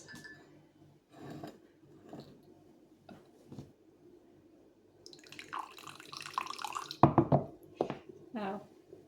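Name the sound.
pouring coffee into a cup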